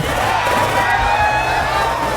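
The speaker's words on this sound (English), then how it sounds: "Let's get a round of applause for Birdie Beats, Birdie Nitz." A crowd applauds and cheers loudly and steadily, a dense wash of clapping and whoops with no pauses.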